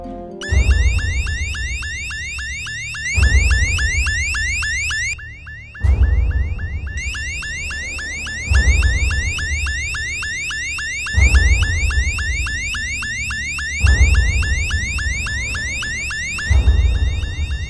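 A loud car alarm blares in repeating cycles of rapid warbling and pulsing tones, close and continuous, used at three in the morning to wake someone.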